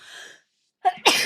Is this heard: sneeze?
yes